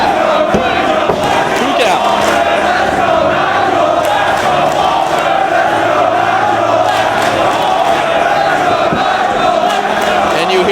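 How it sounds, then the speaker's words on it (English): Loud, continuous crowd cheering and roaring at a live professional wrestling event, a dense arena wall of voices with shouts rising and falling over nearly eleven seconds. "Hear this great crowd at the Rex Plex cheering both men on."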